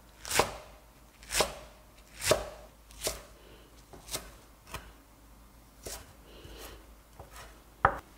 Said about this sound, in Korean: 2cm 정도로 길이로 먼저 썰어 주세요